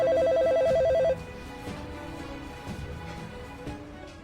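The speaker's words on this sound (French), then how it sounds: "Le téléphone sonne." A telephone bell rings in a quiet room, a short steady electronic ring that stops after about a second, followed by low background noise.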